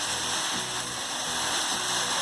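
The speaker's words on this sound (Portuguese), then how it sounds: "De repente, a chuva começou a cair." Steady rain pours down in a dense, continuous hiss with no pauses, moderately loud and even throughout, with no voices or other sounds breaking through.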